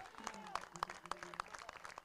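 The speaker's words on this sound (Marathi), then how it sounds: "जोरदार टाळ्या होऊन जाऊ द्या प्रदोष बैकर" Applause from a crowd at a Vasai Virar Premier League cricket match, celebrating a batsman's fifty, heard as steady quick clapping with a commentator's voice talking over it.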